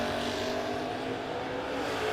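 A 2023 Dodge Hellcat roars down a drag strip lane at a no-box shootout event, its engine a loud, steady, sustained blare from start to finish without any talking.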